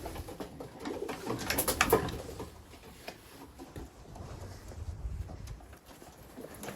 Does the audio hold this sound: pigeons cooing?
yes